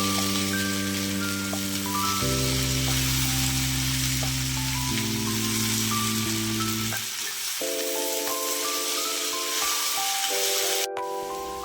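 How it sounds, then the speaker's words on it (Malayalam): Curry leaves crackling in hot oil for a potato fry, a steady sizzle running throughout beneath prominent background music. "ഇനി നമുക്കിതിലേക്ക് കറിവേപ്പില ഇടാം. കുറച്ചു നേരം ഇനി ഒന്ന് മൂപ്പിച്ചെടുക്കാം."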